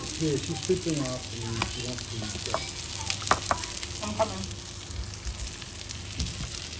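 Frozen shami kebabs frying in a little oil, with a continuous close sizzle and crackle, and scattered taps and clinks of a utensil against the pan.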